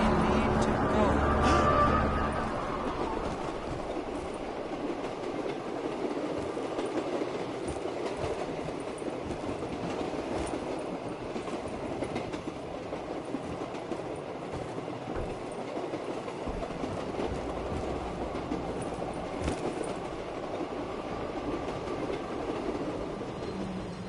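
Train riding along rails in Call of Duty Black Ops 3 Zombies, a continuous rumbling roll with rhythmic clatter and a faint squeal, steady throughout with a voice talking over it.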